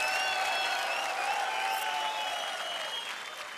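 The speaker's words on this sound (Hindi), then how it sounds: "2000 तालियों के साथ स्वागत कीजिए" A studio audience on the TV comedy show Comedy Circus bursts into sustained, dense applause to welcome a guest, steady and loud before tapering slightly at the end.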